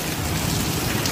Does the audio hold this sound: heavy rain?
yes